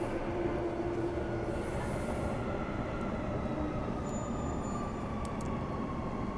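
A suburban train leaves a station on the line between Fremantle and Elizabeth Quay, a steady low rumble of rolling wheels and traction noise, fairly faint and heard from on board or nearby.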